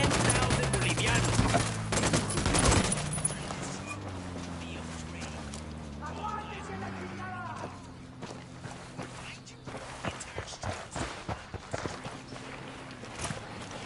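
Bursts of automatic gunfire in Ghost Recon Wildlands, loud rattling volleys early that thin out into scattered sharp shots, with voices talking over and between them.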